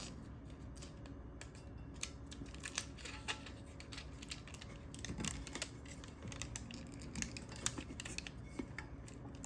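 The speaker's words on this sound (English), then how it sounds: "I'm gonna finish taping the top and the bottom." Adhesive tape is pulled and pressed around a sublimation tumbler, giving faint, close crackles, ticks and small scratchy rustles at irregular intervals with no talking.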